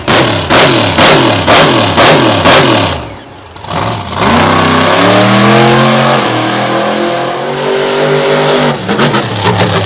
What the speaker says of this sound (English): Letting the fans see and hear the power of that Richard Midget motor in the back of the Toxic machine